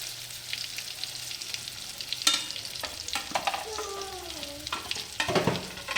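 Onion paste frying and being stirred in a pan for mutton red curry, a steady soft sizzle with scraping strokes and a few louder clinks and bursts, close by and with no voices.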